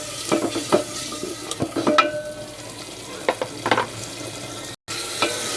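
Spices and green chilies being sautéed in a pan, with repeated close stirring scrapes and clinks over a steady frying hiss and a brief dropout near the end.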